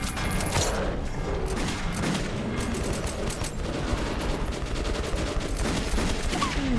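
Dense, sustained gunfire fills a Metro 2033 Redux firefight, with rapid overlapping shots and bursts running loud and continuous from start to finish and no talk over them.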